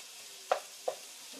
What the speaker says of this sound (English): I like to cook these until my sausages start to get a little brown